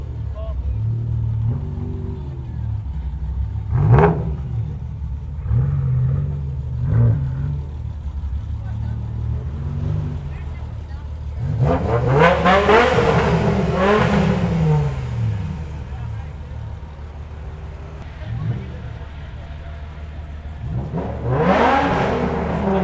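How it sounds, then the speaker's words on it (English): A loud BMW at a BMW fest revs its engine repeatedly, with several sharp bursts rising and falling over a steady idle, close by and under crowd chatter and voices. "Loud car."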